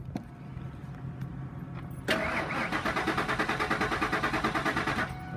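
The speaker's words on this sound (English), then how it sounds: "Okay, so right now it's just turning over." A 2000 Ford F-350 XL dump truck engine cranks over steadily, its starter turning the motor in a fast, even rhythm that grows louder partway through, close up with no talk.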